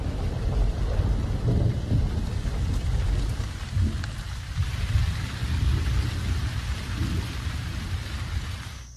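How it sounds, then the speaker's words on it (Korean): Summer rain falls steadily near the Boteti River, with rolling thunder rumbling through the downpour. The rain hiss stays loud and continuous, and no voices are heard. "멀리에서 여름 비가 내리기 시작했습니다."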